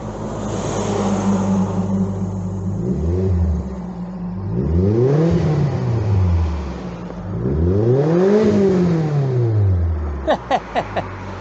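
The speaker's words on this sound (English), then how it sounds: "I like my fruity exhaust." A Mazda MX5 engine idles and then revs hard in repeated rising-and-falling bursts with a fruity exhaust note, loud and close, ending with a few short sharp blips.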